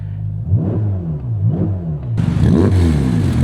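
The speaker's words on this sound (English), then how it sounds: "To start it up, you got the start here, you press it there, you got the V8." Ferrari Roma Spider 3.9-litre twin-turbo V8 firing up and revving, rising and falling engine swells that sharpen into a louder, harsher roar near the end, close and strong with no talking.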